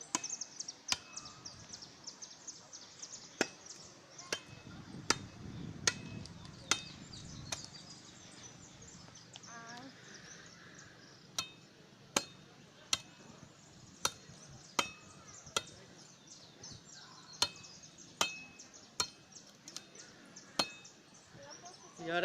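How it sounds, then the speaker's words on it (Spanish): Sharp, regular chops of wood being cut for a campfire outdoors, a steady series of distinct knocks spaced about a second apart, with birds and insects chirping faintly behind and a little talk. "No, no es talla en madera, sino que es cortando la madera con Celeste"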